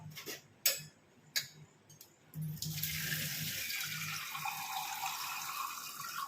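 Tap water running into a cooking pot in a home kitchen: a few light clinks and taps first, then a steady close hissing stream that continues to the end without speech.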